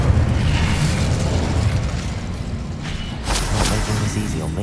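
An Incendio fire spell goes off in Hogwarts Legacy as a loud, dense roaring burst of flame with rumbling low end, followed by a sharper crackling flare near the end.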